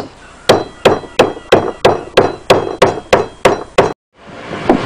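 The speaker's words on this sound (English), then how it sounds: "Using a mallet, put them in the end." A mallet drives black threaded metal inserts into the ends of medium-sized poles with about ten loud, evenly spaced whacks. A short pause follows.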